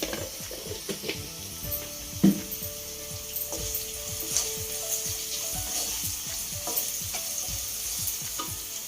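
Spices and curry leaves sizzle steadily in a hot pan while a tomato rasam with broad beans is cooked, a continuous close frying hiss broken by scraping stirs and a few clinks of a spoon against the pan, with no talking.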